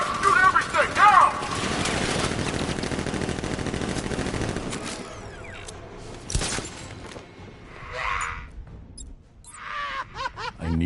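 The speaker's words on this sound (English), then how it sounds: "Guards! Open fire! Shoot everything! Now!" Guards open fire with guns in Batman: Arkham Knight, a dense stretch of rapid automatic gunfire under game dialogue, thinning out to scattered shots and voices toward the end.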